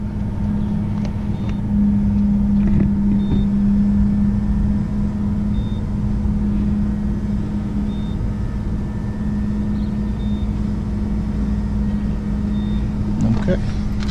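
An Electrify America fast charger powers up to charge a Chevy Bolt EV at Chicopee, giving a steady low electrical hum with a whirring fan and a few faint clicks, continuous and moderately close throughout.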